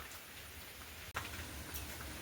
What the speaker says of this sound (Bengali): বৃষ্টি একটু কমে গেছে